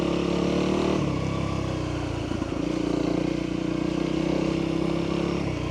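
Honda CRF300L motorcycle ridden off-road through a muddy area, a close, steady engine drone with a brief throttle change and clattering in the middle, continuous throughout.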